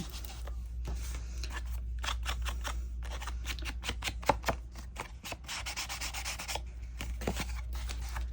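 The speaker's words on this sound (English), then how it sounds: "I'm just kind of covering where, distressing where I think it needs it" Paper tag edges are distressed with repeated short scraping rubs, a quick irregular rasping rhythm close up over a low steady hum.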